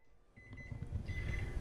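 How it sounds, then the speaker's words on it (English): An oven kitchen timer beeps as chocolate chip cookies finish baking, a thin tone sounding twice at a moderate distance over low rumbling room noise. "it's been 14 minutes and that's our timer."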